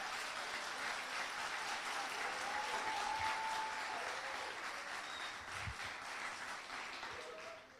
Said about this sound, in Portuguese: aplauda mais forte.